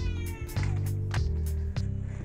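A cat meows several times in quick succession, loud and close, the cries overlapping a steady low hum indoors.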